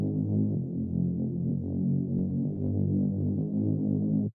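A Resaru synth patch from a Hardstyle Spire pack drones low and thick, with a warm, slowly wobbling resonant tone that holds at steady loudness and then cuts off abruptly. No one talks.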